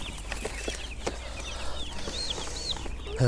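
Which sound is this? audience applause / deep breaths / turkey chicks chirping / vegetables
turkey chicks chirping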